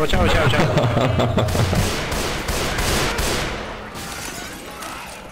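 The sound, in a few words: gunfire in zombie shooter video game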